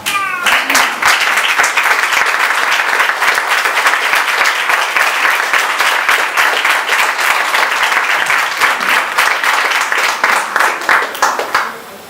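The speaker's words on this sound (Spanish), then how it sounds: "Aplaudan al Señor." A church congregation clapping during a Spanish-language service, loud, dense and continuous applause that holds steady for several seconds, then thins into scattered claps at the end.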